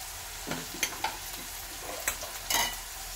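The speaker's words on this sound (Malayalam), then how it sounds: "ഇതെല്ലാം പോലെ നമുക്ക് നന്നായി ഇളക്കി ചേർത്തെടുക്കാം" Spices (salt, pepper powder and turmeric) and curry leaves being stirred into taro curry in a pan, with a few quiet scraping strokes and soft sizzling, close up and without talk.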